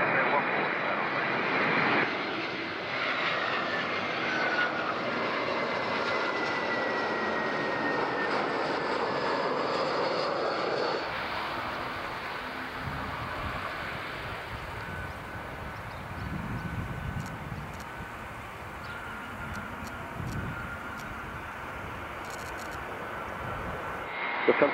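A jet airliner on landing approach to runway 14 at Zurich Airport roars loudly and steadily, the broad engine noise holding close throughout while a faint radio voice talks underneath.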